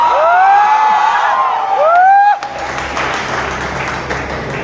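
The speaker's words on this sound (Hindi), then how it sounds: "अब मैकेनिकल वाले एक बार जोर से चिल्लाएं।" A large audience of mechanical engineering students erupts in loud, rising whoops and shouts, then breaks into sustained cheering, clapping and crowd noise that carries on to the end.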